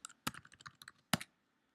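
Computer keyboard keys being typed while entering a Python import command, a short burst of quiet, close clicks in an uneven rhythm, with two louder, sharper keystrokes standing out.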